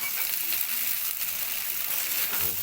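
Chow mein noodles being tossed and mixed in a pan, a steady dense sizzle with soft stirring scrapes throughout, fairly loud and close, no talking.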